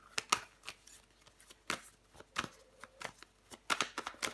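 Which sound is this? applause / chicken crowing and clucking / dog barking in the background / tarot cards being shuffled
tarot cards being shuffled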